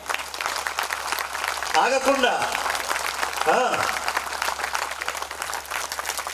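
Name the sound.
audience applause at a religious discourse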